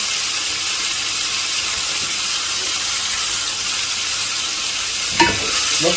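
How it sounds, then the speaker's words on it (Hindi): Mutton pieces frying in a pan with light-browned onions for Afghani pulao, a continuous loud sizzle and hiss with a brief clatter of stirring near the end. "अभी मैं इसमें शामिल करूंगा मटन। मटन को आपने बहुत अच्छी तरह भून लेना है।"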